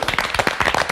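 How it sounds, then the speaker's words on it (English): Big Brother housemates cheer and applaud at a live eviction, with rapid dense clapping and excited shouts from a small group close by. "They sound like they were cheering you, Callum."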